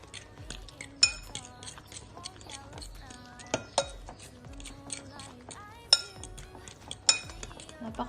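A utensil whisks egg in a bowl for a banana oat breakfast, with quiet irregular clinks and scrapes against the bowl and a few sharper taps, under occasional soft talk.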